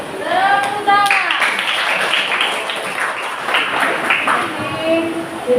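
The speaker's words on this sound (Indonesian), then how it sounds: "Tepuk tangan." Hands clapping in a classroom, rhythmic bursts from a group of students, loud and close, with children's voices talking and calling out over the claps.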